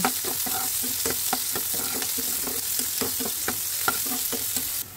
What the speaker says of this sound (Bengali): হালকা ভাজা হয়ে গেলে তাতে দিয়ে দেব একটি পেঁয়াজ কুচিনো।